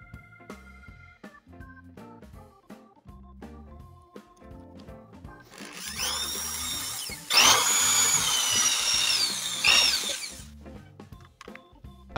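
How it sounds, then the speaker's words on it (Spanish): A power drill drives screws through wood and PVC casing: a rising whine that swells loud and continuous midway, over background music. "Voy a asegurar la carcasa con estos dos tornillos atravesando la madera y el PVC."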